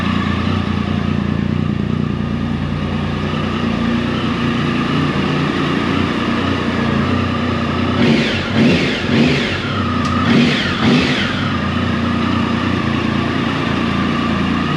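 A Triumph 1050 motorcycle engine on a cold start, idling loudly and steadily up close, then blipped through several quick revs in a row before settling back to idle.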